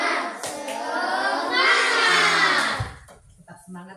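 Schoolchildren chant and clap the tepuk semangat rhythm together, a bright chorus of young voices with sharp hand claps, then a quieter tail of scattered sounds.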